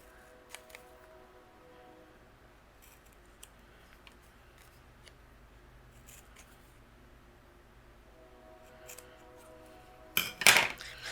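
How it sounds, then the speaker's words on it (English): Quiet room with a few faint clicks, then a short, loud burst of scissors snipping paper near the end, fishtailing the ends of a strip for card making. "I'm going to use my scissors and I'm going to fishtail the ends"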